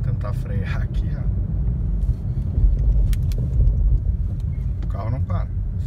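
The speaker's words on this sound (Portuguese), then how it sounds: "O carro não para, o carro simplesmente não para." A car brakes and slides on snow as a steady low rumble of the engine and tires continues throughout, close and fairly loud, while someone talks over it.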